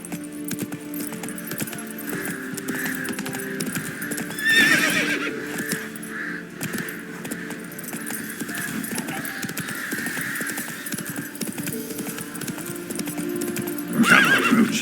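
In The Witcher 3, a horse gallops with rapid clip-clop hoofbeats throughout, letting out loud neighs near the start and again at the end, close and clear with no talk.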